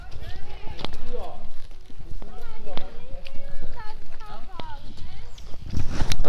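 Horse hooves clip-clop in an arena, with uneven thudding footfalls heard up close while someone talks over them in Portuguese.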